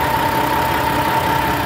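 A six-cylinder Detroit 60 series diesel truck engine idling, a steady close rumble with a constant droning hum and no change in pace.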